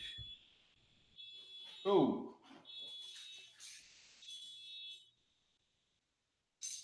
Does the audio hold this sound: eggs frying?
no